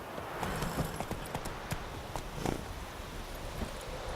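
A horse gallops in The Witcher 3, its hooves drumming in a steady, fairly loud clip-clop rhythm over a continuous game soundscape, with no talk over it.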